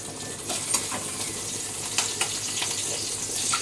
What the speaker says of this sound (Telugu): పాపకైతే చిన్నగా ఎగ్గు మాదిరి ఫ్రై చేస్తున్నాను